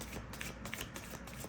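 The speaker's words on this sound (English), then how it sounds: "We'll shuffle them a little bit more." A deck of cards being shuffled up close, a steady riffling patter of quick papery flutters lasting the whole moment.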